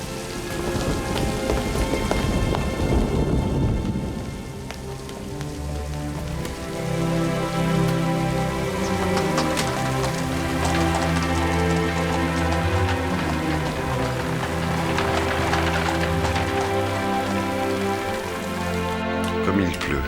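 Heavy rain pouring down, a dense continuous hiss of drops with faint thunder, under a swelling dramatic music score throughout.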